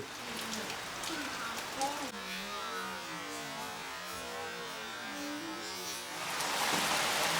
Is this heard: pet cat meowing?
no